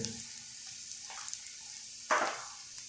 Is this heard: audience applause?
no